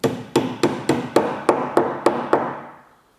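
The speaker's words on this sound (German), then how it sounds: "Die sollten wirklich so stramm sein, dass sie mit einem leichten Hammerschlag nur reingehen." Nine light hammer taps driving a tight wooden joint together while building a cabinet, evenly spaced sharp knocks that ring briefly and fade, close and alone.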